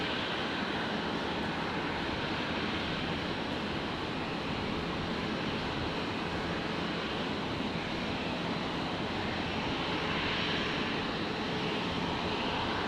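Airbus A330-200 airliner at Brisbane Airport before pushback for a Los Angeles departure, heard as a steady, broad engine roar and airport rumble holding level throughout, with no voices.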